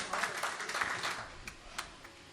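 Audience at a mushaira poetry gathering applauding to welcome a poet, a moderate burst of clapping that thins out into a few scattered claps.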